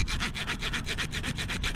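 Rapid back-and-forth scraping strokes as a nick is cut into a fiberglass tent pole found on the ground, close, steady and rhythmic with no talking.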